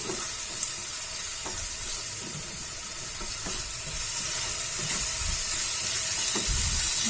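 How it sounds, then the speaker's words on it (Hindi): Spices for paneer bhurji (Kashmiri red chilli powder and salt) are mixed and roasted in a pan, giving a steady hissing sizzle with soft, repeated stirring scrapes and one brief sharp tap. "अब इन सब सारे मसाले को हम मिला देते हैं और थोड़ा भून लेते हैं इसे।"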